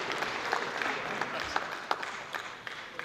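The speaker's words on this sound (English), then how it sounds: "A round of applause for the City of Masvingo" Fairly faint audience applause at a public sector audit awards ceremony, a steady patter of many hands clapping with occasional louder individual claps.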